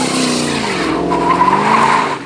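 Dodge Charger tires squealing loudly during a burnout, a sustained high screech with wavering pitch and engine roar beneath it, close and continuous for the whole moment.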